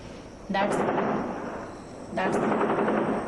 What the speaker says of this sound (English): That's the sound of firing that we have been hearing over here.